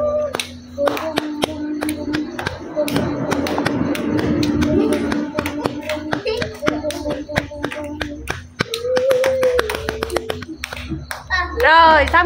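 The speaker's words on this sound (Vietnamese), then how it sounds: "Vỗ tay." A group of people, children among them, claps hands in quick, irregular sharp taps, close and loud, with talking and chatter mixed in through the applause.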